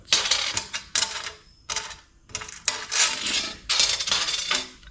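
Large steel bolts, washers and nuts being handled for mounting ditch light brackets on a Chevy Suburban, with close metallic clinks and rattles coming in several bursts separated by short pauses.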